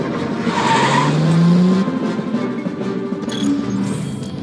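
The Regalia car in Final Fantasy XV drives and skids, its tires squealing loudly over engine rumble early on, then fading into a lower steady drive with brief later squeals.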